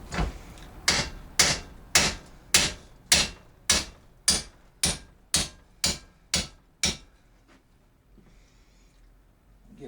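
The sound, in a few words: ball peen hammer striking metal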